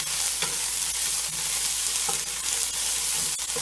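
Steady sizzling of jambalaya frying fast in a pot, with occasional scraping stirs and clinks of a utensil, close by and continuous.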